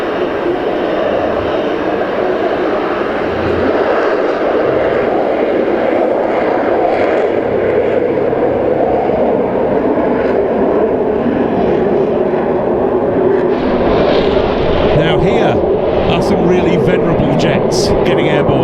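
Turkish Air Force Northrop NF-5A and NF-5B jets getting airborne at an air show, a steady loud engine roar with a rising whine near the end, a crowd murmur beneath.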